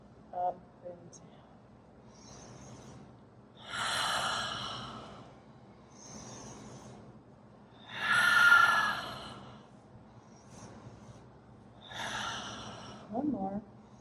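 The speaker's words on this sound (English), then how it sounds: "Now we change the direction. Inhale out, exhale up." Deep breathing during an energy medicine exercise: three long, slow breaths sound out in turn, each a loud airy rush followed by quieter pauses, close to the microphone with no talking.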